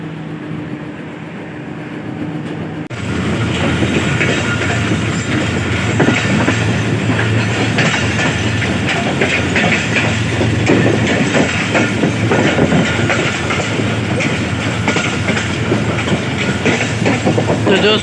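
The Rehman Baba Express, hauled by an HGMU 30 locomotive, runs from Kotri toward Karachi with a steady loud rumble and rhythmic wheel clatter that swells in after a quieter opening and holds throughout.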